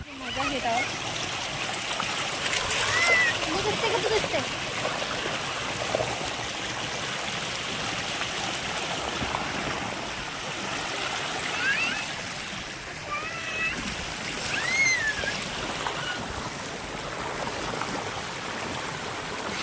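River water rushes and splashes continuously nearby, with a few faint whistles or chirps cutting through now and then.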